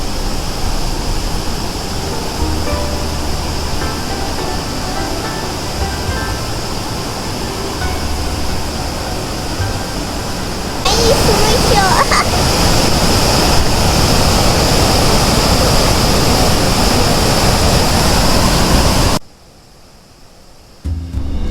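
Steady, dense roar of the waterfall at the natural bridge where Çakıt stream resurfaces in Kapıkaya Canyon, a constant broadband rush that grows louder midway and drops away abruptly near the end.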